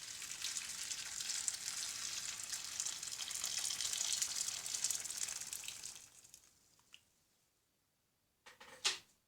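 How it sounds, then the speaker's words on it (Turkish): Boiling water poured into a large pot for sterilizing pickle jars, a steady close gushing stream lasting several seconds that tapers off, followed by a couple of faint clinks. "İçerisine kaynak haldeki suyumu boşaltıyorum."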